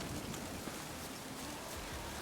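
Steady rain hisses evenly throughout a dark, rainy video game scene, a soft continuous wash with no talk over it.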